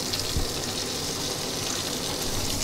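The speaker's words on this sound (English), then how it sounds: "And I have turned my water on here." Water runs steadily from a tap through a hose into a bottle as shampoo is mixed, a constant close gushing rush with no pauses.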